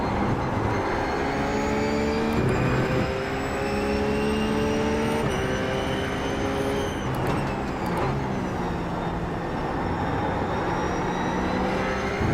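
A RUF race car engine in an iRacing sim howls continuously and loud, its pitch climbing through the gears with brief dips at each shift and a deeper drop as it brakes into a corner.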